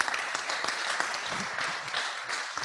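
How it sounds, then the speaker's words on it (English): An audience at a talk on the life of Frederick Douglass breaks into a dense round of applause, many hands clapping steadily and evenly throughout, moderately loud and uninterrupted. "Let's give Ron a round of applause."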